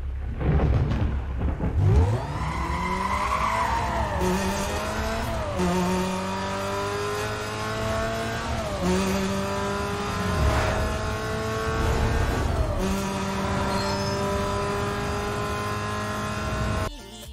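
A simulated car engine from a Need for Speed game, the Cobalt sound from Most Wanted 2005, revs repeatedly, climbing steadily in pitch through several gear shifts, loud and continuous with no voices.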